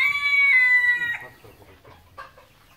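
A rooster crows loudly and close by on a family farm property in Thailand, then hens cluck faintly in short, scattered calls.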